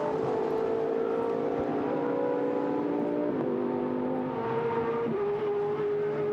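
GT race cars at the Algarve circuit roar past in a steady, loud engine drone whose pitch shifts as they change gear and pass, heard continuously without talk.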